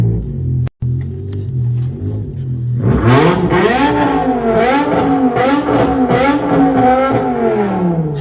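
A BMW M5 engine rumbles at a steady idle, then is revved repeatedly from about three seconds on, with the revs rising and falling in loud, close, rising whines over the low rumble.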